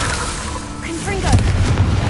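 A Confringo fire spell bursts in Hogwarts Legacy, a loud, deep blast rising out of a dense, continuous bed of game sound.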